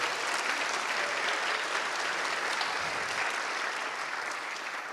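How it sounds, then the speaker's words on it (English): Audience applause at a React Finland developer conference talk, a dense, steady wash of many hands clapping that holds evenly for the whole stretch with no voices over it. "So please do give an applause for Linda."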